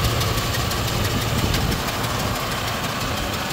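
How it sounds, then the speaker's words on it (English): 2008 Ford F-350 diesel engine idling, a steady dense rumble with a faint rapid clatter, close and loud throughout. "But the motor, it does not sound bad."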